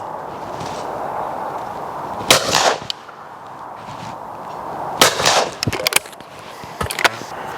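Shotgun shots ring out in pairs, sharp loud blasts at intervals over outdoor background noise, with some fainter reports in between.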